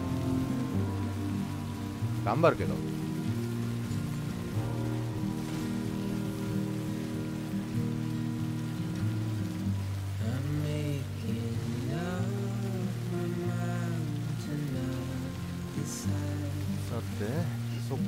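Rain falls steadily in the video game Death Stranding, a constant hiss laid under soft background music. A voice speaks briefly partway through.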